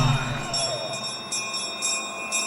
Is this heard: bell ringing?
yes